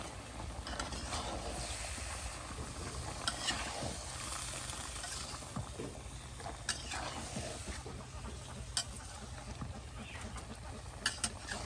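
Bottle gourd and rohu fish head curry is turned over in a pan, the spoon scraping and clinking amid a soft, continuous sizzle, fairly quiet and close, with no talking.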